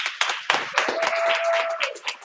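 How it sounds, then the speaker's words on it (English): A small group clapping close by at a business mixer, uneven and brief, with a faint steady tone running underneath. "Round of applause, everybody."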